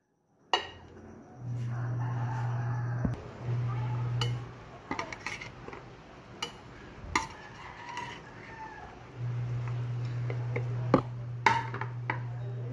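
Rice being plated in a home kitchen, with scattered sharp clinks and taps of dishes and cutlery spread over the stretch, under a steady low hum and occasional soft voices.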